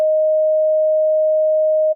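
Steady pure sine tone on the note D in 12-tone equal temperament, a single sustained pitch of even loudness for about two seconds before cutting off cleanly.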